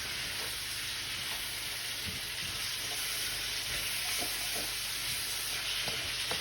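Steady sizzling of garlic and jalapeno stir-frying in a hot wok, with occasional soft scrapes and taps of stirring, constant and close.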